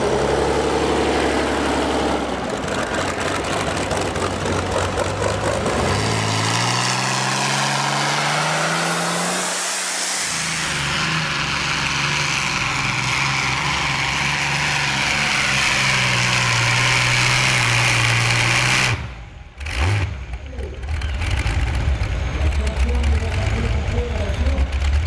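A powerful V12 engine at a drag racing event runs continuously, rumbling and revving with a rising pitch, loud and close, with a brief dip before it roars on.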